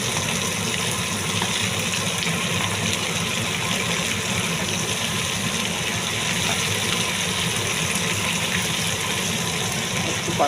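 Water gushes into a pan of frying prawns with jackfruit, a loud continuous rushing pour that holds steady and close throughout.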